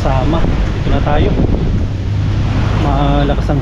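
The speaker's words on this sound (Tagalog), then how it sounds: "Malakas ang hangin." Strong wind by the sea buffets the microphone with a constant loud roar, while people talk over it throughout.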